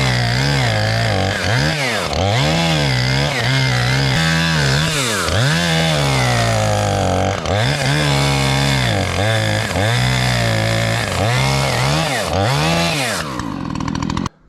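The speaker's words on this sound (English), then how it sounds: "I'll run my chainsaw back and forth where it's touching right here" Chainsaw cutting a log for a cabin wall in the woods, engine roaring loud and close throughout, pitch rising and falling as the bar is worked back and forth, then cutting off abruptly at the end.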